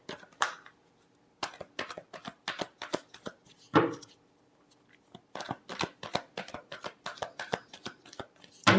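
A deck of tarot cards is shuffled close by in quick riffling bursts with short pauses, the crisp card flutter heard alone, without talk.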